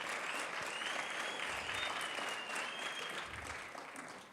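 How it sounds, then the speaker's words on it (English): Sustained applause from a crowd for a student election candidate at a campus manifesto event, steady dense clapping that stays fairly loud throughout and tapers slightly near the end. "A round of applause."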